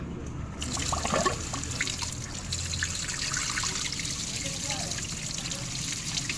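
Water gushes and trickles steadily as a car heater core is back-flushed from below, with a continuous splashing flow near and moderately loud, and faint voices in the background.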